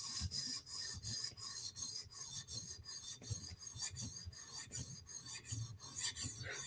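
A knife blade rasps steadily across a 400 grit CBN sharpening stone as the burr is reduced, repeated scraping strokes in an even rhythm, close and clear with no talk.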